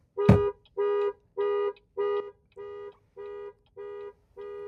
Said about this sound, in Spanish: y así se activa y así verificamos que está funcionando el sistema de alarma.